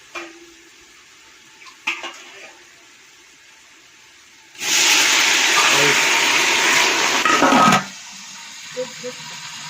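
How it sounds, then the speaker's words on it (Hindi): Water is poured into a pot of browned onions for chickpea pilaf, giving a loud, steady hissing sizzle for about three seconds, with a few clinks of a utensil before and after. "अब इसमें थोड़ा सा पानी डालना है।"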